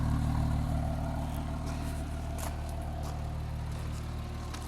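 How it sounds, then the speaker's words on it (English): A Porsche Cayman 987 Mk.1 idles through a Cayman S exhaust, a steady low rumble close by with an even tone and no revving. "So this is the Cayman S exhaust that's on it."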